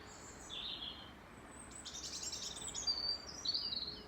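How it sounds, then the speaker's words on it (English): Birds, including wood pigeons, chirp and call outdoors in short high bursts against a steady background hum of traffic, growing busier toward the end. "Do you want to come and hear the birds?"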